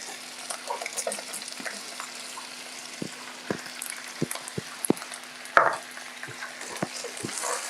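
Onions frying in a little oil in a pan on an open fire, a steady close sizzle broken by sharp scrapes and clicks of stirring.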